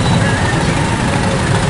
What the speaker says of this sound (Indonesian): banyak juga truk-truk yang ngangkut kelapa sawit ini